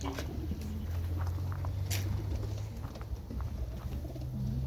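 Pigeons cooing in a loft in low, repeated murmurs over a steady background hum, with a few brief rustles nearby.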